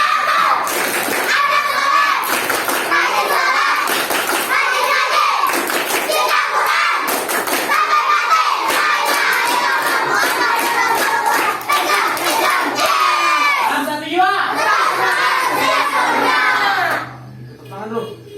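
Children at an Islamic boarding school chanting the 'tepuk anak soleh' together in loud group voices, punctuated by rhythmic bursts of hand claps and thumps, with the chant and claps alternating energetically before trailing off near the end.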